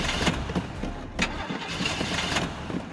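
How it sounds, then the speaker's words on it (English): Toy truck engine starting up, a rough cranking churn settling into a steady rumbling run, close and fairly loud throughout the short stretch. "Start your engines."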